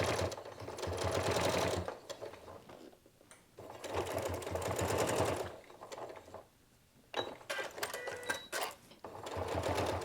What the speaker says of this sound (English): I'm gonna go ahead and stitch around this again.